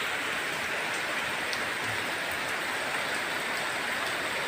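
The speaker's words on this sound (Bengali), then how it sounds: "দেখছেন প্রতিটা অঞ্চলেই কিন্তু এভাবে বৃষ্টি নেমে পানিবন্দি" Heavy rain pours down steadily across a waterlogged area, a dense, unbroken roar of falling water that stays loud and even throughout, with no voices.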